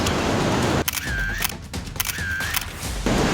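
Camera shutter clicks while photographing a freshly caught bronze bream at a tidal pool, two distinct close shots with sharp mechanical snaps over steady wind and surf noise.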